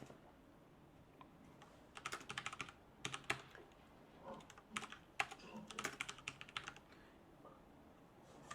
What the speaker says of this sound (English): if I type in the name of that file, a.out